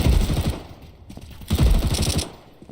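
Rapid automatic fire from an MP7 submachine gun in Counter-Strike 2, two loud bursts of clattering shots with a brief gap between them.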